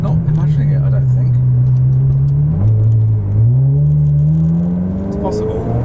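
A Ferrari 360 engine idling smoothly after an ECU reset, a steady low drone that dips briefly, then gently rises and settles, close and continuous throughout.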